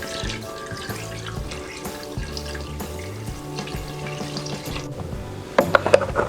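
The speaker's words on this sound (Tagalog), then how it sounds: "Tsaka natin ibubuhos yung maraming tubig." Lots of water poured into a pot of goat stew, a steady running splash under background music, growing louder and more turbulent toward the end.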